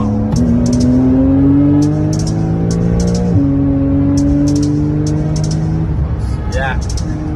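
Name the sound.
car engine revving while driving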